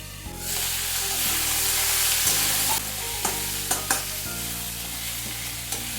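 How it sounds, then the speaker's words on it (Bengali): Pumpkin and yardlong beans fry in a pan with salt, giving a steady loud sizzle with a few close clinks and stirring knocks. "কুমড়োর বরবটিটা ভাজতে ভাজতে একটু নুন দিয়ে দিচ্ছি"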